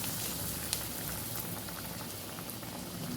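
Masala vada frying in hot oil gives a steady, bubbling sizzle, close and fairly soft, with a few faint pops and no voices.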